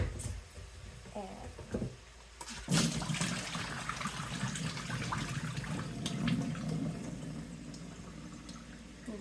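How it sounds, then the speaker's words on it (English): Excess water drips and trickles from a strainer of soaked sprouting seeds being grown for backyard chickens, a steady close splashing and dripping that swells after a sharp start and continues without talk. "Wait for all the excess water to drip out."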